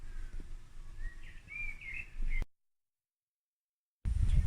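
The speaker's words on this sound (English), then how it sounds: "you can hear some birds" A few birds chirp faintly amid quiet forest ambience, then the sound cuts abruptly to silence before rougher background noise returns.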